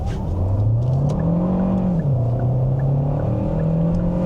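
A Hyundai Tucson or Kia Sportage 1.6 turbo hybrid accelerates from inside the cabin, its engine drone rising steadily, dipping briefly at a gear change, then climbing again.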